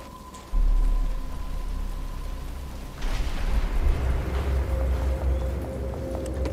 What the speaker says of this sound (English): But it's starting to rain.